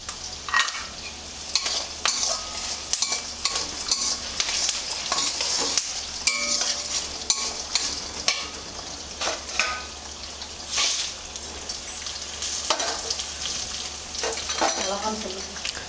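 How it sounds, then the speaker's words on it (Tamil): Peanuts, horse gram, urad dal, chana dal and two dried chillies dry-roast in a pan, giving a dense rattling crackle with frequent spoon stirs and scrapes, close and continuous. "பாருங்கள் 2 மிளகாவும் இதில் போட்டு வறுத்துற போகிறோம்."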